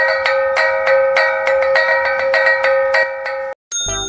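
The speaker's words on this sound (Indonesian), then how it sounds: "Aramba merupakan jenis alat musik idiopone berbentuk gong kecil yang terbuat dari bahan logam seperti tembaga," Aramba, a small copper-type metal gong from Nias, struck in a quick rhythmic run of bright ringing hits with shimmering overtones, close and clear. A brief gap near the end is followed by another metallic tone.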